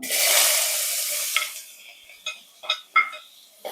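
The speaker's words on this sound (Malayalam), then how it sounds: "എന്നിട്ട് ഈ സവാള ഇങ്ങനെ സോട്ട് ചെയ്യിപ്പിക്കുന്നു" Onion for pasta sautés in a pan, starting with a loud burst of sizzle that fades, followed by several distinct scrapes and taps of a utensil stirring.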